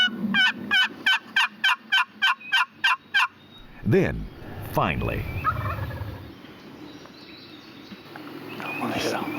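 Wild turkeys gobble in a rapid run of about nine sharp, evenly spaced calls, loud and close, followed by someone speaking briefly over rustling outdoor ambience and a later softer call.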